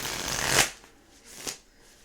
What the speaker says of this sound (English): Let's get a couple shuffles in here.